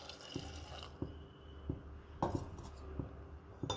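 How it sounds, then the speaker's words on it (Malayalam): Water is poured into a pot of papaya pieces set to cook, giving a close, steady splashing fill with a few brief louder spurts. "നമുക്ക് ഇതിലേക്ക് ആവശ്യമുള്ള വെള്ളം ഒഴിച്ചു കൊടുക്കാം."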